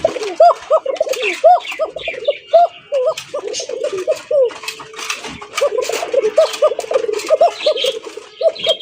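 Pigeons offered for sale at a wholesale pigeon market coo and call repeatedly in a dense, close chorus, with people talking over them throughout.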